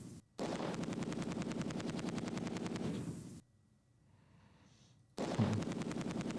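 Machine gun and rifle fire in Close Combat 2 rattles in long rapid bursts, loud and continuous, broken by a short quieter gap before another burst starts.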